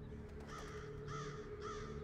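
Crows cawing outdoors, three distinct harsh calls spaced about half a second apart, moderately distant and faint over a low steady background hum.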